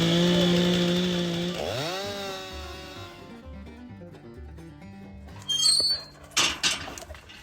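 A chainsaw cutting, held against the leg for support: a loud whining engine tone drops sharply in pitch as the blade loads, then a lower idling stutter, followed by a few short bursts of revving near the end.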